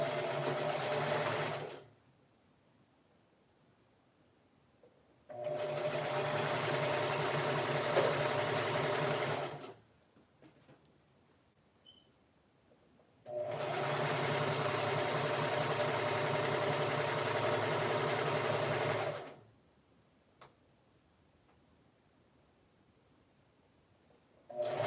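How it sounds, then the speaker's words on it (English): A sewing machine stitches down the hem of a lounge set in three long, steady runs of a few seconds each, separated by short pauses of near silence, the motor's whirr loud and close. "So I'm gonna just sew down the bottom of it."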